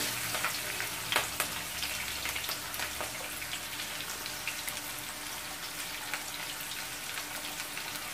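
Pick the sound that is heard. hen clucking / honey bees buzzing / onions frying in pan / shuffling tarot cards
onions frying in pan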